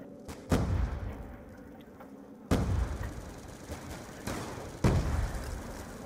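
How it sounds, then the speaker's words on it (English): Grenades exploding in Black Ops 2 Zombies, a shooter video game, sound as several deep booming blasts a second or two apart. Each blast hits hard and rumbles off over a low steady background. "Throwing out some grenades to help out some"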